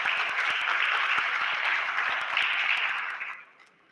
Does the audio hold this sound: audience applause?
yes